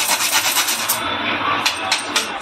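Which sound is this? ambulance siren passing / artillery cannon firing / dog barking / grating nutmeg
grating nutmeg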